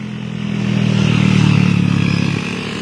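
A front-engine bus in a departing convoy revs up, a close low engine roar that swells over about a second and eases off again, with no talk.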